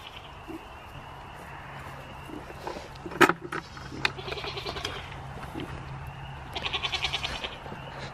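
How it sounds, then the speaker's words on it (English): Several goats bleat at intervals, one loud nearby cry standing out, with a quiet background hum and occasional rustling. "The loudest goat over there is Blossom."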